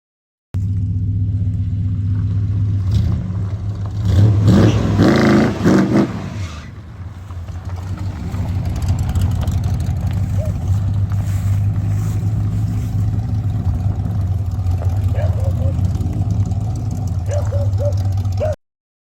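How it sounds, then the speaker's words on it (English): A 1955 Chevy gasser engine idles with a deep, steady rumble, rising in a brief louder rev early on before settling back into a loping idle for the rest. "yeah, I got the car running."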